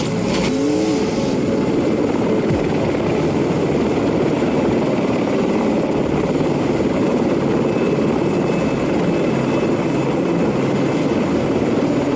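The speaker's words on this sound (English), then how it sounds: "That helicopter right there? That's Grindor." Helicopter Grindor in the Transformers: Revenge of the Fallen video game, a steady loud rotor and engine drone with a whooshing swell near the start, continuous throughout with no talk.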